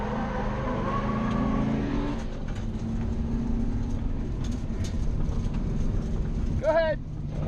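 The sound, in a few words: Ford Mustang drift car engine revving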